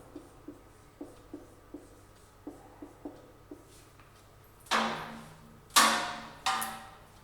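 Chalk or marker writing on a classroom board, a run of light rhythmic taps and short strokes followed by three louder, longer scraping swipes, close and clear with no talking.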